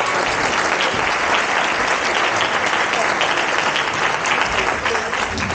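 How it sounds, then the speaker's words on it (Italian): Loud, steady applause from a concert audience after a town band performance, a dense unbroken wash of clapping throughout. "Un bel applauso, dai."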